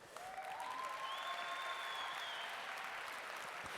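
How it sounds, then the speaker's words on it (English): Audience applause at a robotics championship, a dense, sustained patter of clapping from a large crowd filling the hall, with brief whistles rising above it. "give a round of applause to our team announcers and Michael, our MC, on the other side."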